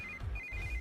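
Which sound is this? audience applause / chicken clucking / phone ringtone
phone ringtone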